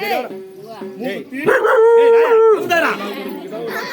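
A person's voice imitates a dog, giving loud, close yips, barks and a drawn-out howl in rapid bursts, mixed with some speech.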